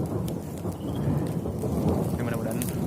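Steady rain falls on a mountain trail on Mount Kerinci, a dense continuous hiss with occasional louder drops and a low rumble running throughout.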